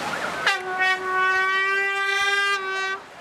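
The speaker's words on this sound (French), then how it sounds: "c'est à grands coups de klaxon et de sifflet que les baigneurs sont rappelés à l'ordre" A loud, sustained horn blast with a rich harmonic tone sounds for about two seconds at a beach in Cap d'Agde, with lifeguards using it to call swimmers back to order. It starts abruptly and then cuts off.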